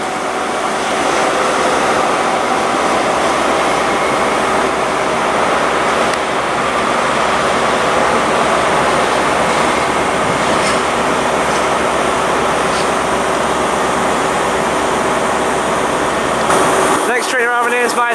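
An HST train with power car 43005 at Reading station, a loud, steady diesel engine rumble and hum close by that continues throughout, with a brief clatter near the end.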